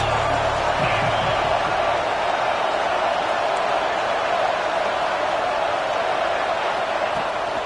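A football stadium crowd at an Ohio State vs Michigan game roars in a steady, dense wall of cheering that holds evenly from start to finish, with a brief low thump early on.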